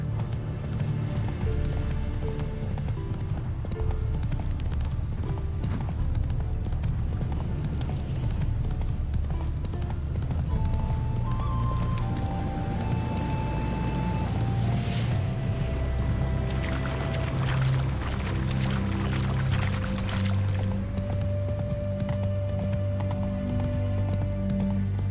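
Horse hooves clip-clop steadily under a continuous tonal music-like background, with occasional whinny-like rises as the horse is ridden and jumped; no talk is heard.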